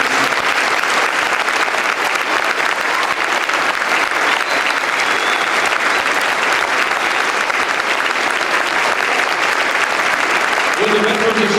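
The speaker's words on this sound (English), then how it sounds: "they deserve a big round of applause." Steady, dense applause from a large outdoor audience at a Veterans Day opening ceremony, sustained and loud throughout with no break.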